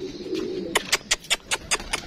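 Pigeons in a loft with breeding pairs and chicks give a low drawn-out coo, then a quick, close run of about seven sharp, evenly spaced bursts.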